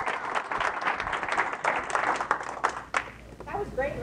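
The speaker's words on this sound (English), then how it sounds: "let's give him a round of applause." An audience at a technology summit applauds for a few seconds. A voice talks over the clapping, which fades out toward the end.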